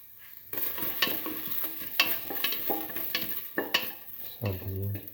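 Ginger sizzles as it fries in a pan for a lentil, cucumber and coconut milk stew, with close utensil scrapes and clinks from stirring and a steady, low background hiss.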